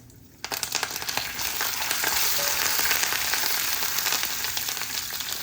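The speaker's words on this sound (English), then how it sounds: "Now I'm going to add some curry patta" Curry leaves hit hot oil with a sudden loud sizzle that holds steady as a dense, crackling fry, stirred now and then, with no voices.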